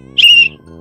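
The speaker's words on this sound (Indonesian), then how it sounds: "Ini namanya pelui yang untuk orang-orang parkir nih." A parking attendant's whistle gives one short, shrill blast lasting about a third of a second, loud and close, over a faint background hum.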